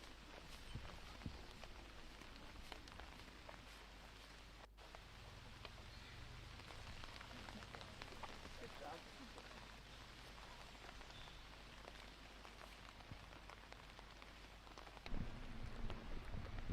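Steady rain falls and patters on surfaces during an outdoor women's disc golf round, a soft continuous hiss with scattered drops, growing slightly louder near the end.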